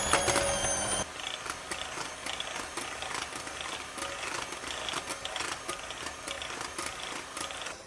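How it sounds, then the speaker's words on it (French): Electric mixer whisking pistachio buttercream as sugar syrup is poured in, a steady close mechanical whirr with rapid regular ticking and clattering from the beaters, no talk. "on va continuer à fouetter jusqu'à ce que ça refroidisse totalement"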